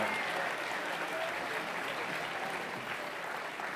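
A crowd claps at a Saturday night political rally during a festival, a dense steady round of applause that stays even and full for several seconds.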